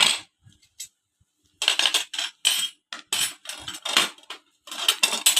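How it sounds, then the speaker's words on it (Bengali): Three metal spoons handled together at a table, giving a run of bright clinks and taps in irregular clusters, close and fairly clear with short silent gaps. "সাথে তিনটা চামচও নিয়ে আসছে দেখুন তিনটা চামচ নিয়ে আসলাম"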